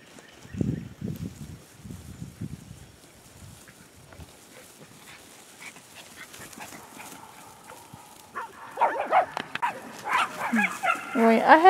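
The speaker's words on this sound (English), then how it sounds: "there's nothing to bark at" A dog barks in short bursts near the start, then quieter rustling follows before louder mixed activity and voices build toward the end.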